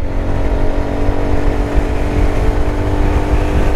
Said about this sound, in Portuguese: Vou dar aceleração para poder ultrapassar o outro carro